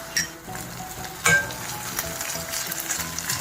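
Garam masala and ginger-garlic paste fry in a pan for a Godavari-style cheeramenu fish curry, giving a steady close sizzle with a few sharper crackles and spatters, no voices.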